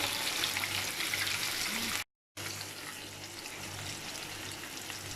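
Onion, tomato, capsicum, carrot, cabbage and peas stir-fry in three to four spoons of hot oil, giving a steady close sizzling hiss that cuts out for a moment before resuming.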